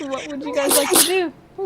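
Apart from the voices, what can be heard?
sneeze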